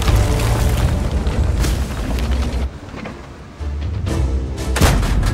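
Heavy tank cannon booms during firing practice in the video game World of Tanks, deep loud blasts with rumbling tails against continuous engine drone.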